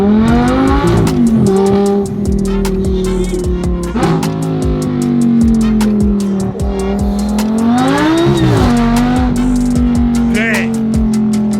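A Lamborghini Huracan-based race car revs hard and accelerates, the engine note rising and falling through gear changes with brief tire squeals, close and loud, while people whoop and talk over it.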